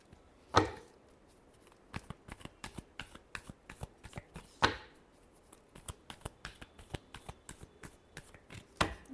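Tarot cards shuffled by hand in a close, quiet space, a rapid run of soft riffling flicks with a couple of louder slaps where the deck is cut or squared.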